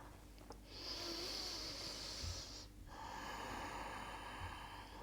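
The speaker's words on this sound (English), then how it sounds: "Take a big breath" A single deep breath during a standing yoga pose, a long airy inhale followed by a brief pause and a slow breathy exhale, soft and close with no talking.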